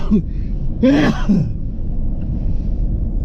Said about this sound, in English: See, you done give me a cough